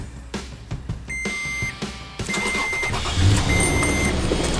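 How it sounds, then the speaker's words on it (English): A salvage Copart project car that vibrates when running is started after a few chimes, its engine catching partway through and then idling loudly and roughly up close. "Fired right up with a vibration."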